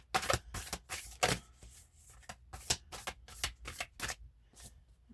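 A deck of cards being shuffled during a tarot-style reading, with a burst of riffling snaps followed by a run of short, crisp card flicks and slaps in an irregular rhythm, close and fairly quiet with no talking.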